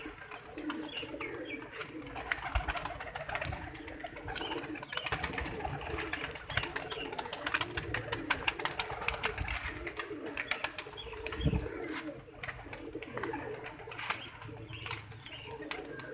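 Pigeons coo steadily in a loft, including a sick, stiffened female pigeon, with soft repeated calls and occasional wing flutters over a constant low background hum.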